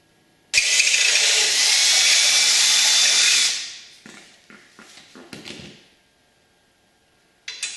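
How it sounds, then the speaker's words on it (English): A power drill bores out a hole to 1/4 inch for an AN4 bolt through a part of an Affordaplane homebuilt aircraft. It makes a loud, steady whine for about three seconds, then tapers off into a few short clanks and handling knocks. "I will punch and drill this"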